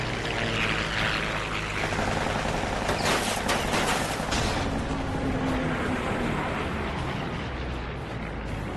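A night fighter's guns fire in dense bursts of rapid reports over a constant roar of aircraft engines, loud and harsh, continuing for several seconds.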